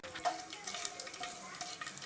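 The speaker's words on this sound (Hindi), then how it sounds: "चला देंगे इन मसालों को और इसे आधे मिनट के लिए अच्छे से भून लेंगे" Whole spices (bay leaf, green cardamom, cinnamon, black pepper and cloves) fry in hot oil and ghee with a brief, moderately loud crackling sizzle.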